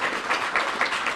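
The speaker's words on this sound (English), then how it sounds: "Give them another big round of applause." A short burst of steady applause from the audience honoring DC Housing Authority staff at the opening of an affordable assisted living facility. It sounds like dense, full crowd clapping with slight swells, close and even throughout.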